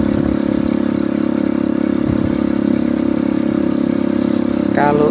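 A motorcycle travels a narrow road near Gunung Kemala, its engine droning steadily and loud throughout, with a rough clattering undertone and a brief higher whine near the end.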